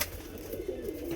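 Pigeons kept for sale cooing softly in low, rolling murmurs, close by against a steady background hum.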